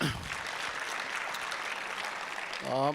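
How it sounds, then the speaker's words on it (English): A conference audience breaks into steady, moderately loud applause, a continuous patter of many hands that fades as a voice begins speaking at the end. "Can you please give him another round of applause?"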